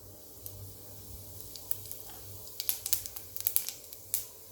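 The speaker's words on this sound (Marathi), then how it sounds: "तेल थोडं तापल्यावर आपण त्याच्यामध्ये जिरं टाकूया," Cumin seeds are dropped into a little heated oil for a Marathi-style tempering, giving faint crackles and sharp little pops that grow denser toward the end over a quiet sizzle.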